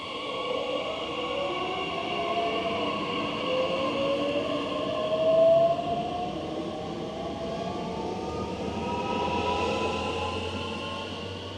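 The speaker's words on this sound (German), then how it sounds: "Ausfahrt Abellio RE8 nach Leinefelde." An Abellio RE8 regional train bound for Leinefelde pulls out of Nordhausen station with a steady rumbling roll, rising wheel and motor whine and faint squeals, sustained and fairly close throughout.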